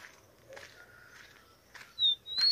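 A wild rufous-collared sparrow (tico-tico) sings at sunrise in a few short, thin, high whistled notes with brief gaps, fairly faint and alone, with no talking.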